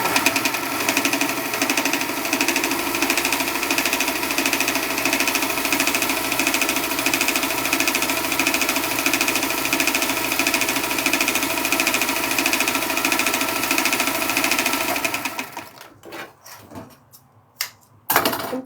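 A sewing machine stitches a garment, running continuously with a loud, close, rhythmic mechanical hum and knocking for about fifteen seconds before stopping, followed by a few handling clunks.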